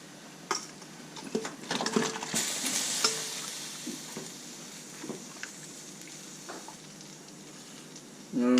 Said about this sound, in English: the water start boiling, so remove the lid and put the chicken in